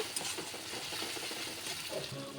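Chilli and turmeric masala is stirred in a frying pan with a quiet, continuous scraping and a faint sizzle.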